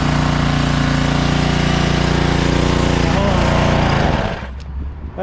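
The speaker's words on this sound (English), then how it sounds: "It looks like a pretty wimpy 3000 PSI pressure washer." A Ryobi 3000 PSI pressure washer with a broken thermal limiter runs as a loud, steady engine drone close by, cutting off toward the end, with people talking over it.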